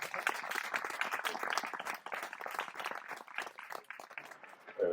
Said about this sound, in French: je crois qu'on peut les applaudir une nouvelle fois.